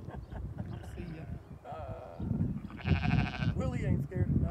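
Sheep bleat on a farm where Great Pyrenees puppies mingle with the flock, several drawn-out wavering cries close by, mixed with people talking and rustling movement.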